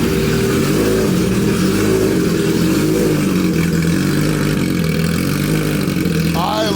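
A loud, rumbling MV Agusta Brutale 1000 engine with an aftermarket loud exhaust idles cold and steadily throughout, a deep throaty exhaust with low pulsing vibration, close to the microphone.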